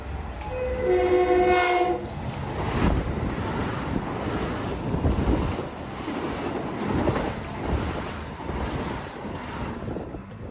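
A subway train horn blares loudly for a couple of seconds, then the train rumbles and rattles past nearby at a New York station near East Tremont Avenue, with wind buffeting throughout.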